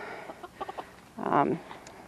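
Rhode Island Red chickens in a backyard flock give a few soft, short clucks followed by one louder, drawn-out squawk, fairly close and otherwise quiet.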